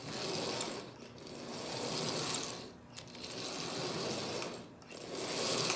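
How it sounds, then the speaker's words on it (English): The old motor of a prewar Marx 999 toy train locomotive, freshly lubricated, running with a faint continuous mechanical whir and rattle that swells and dips in a slow cycle, with no voices. "As you see, this old motor runs absolutely splendidly."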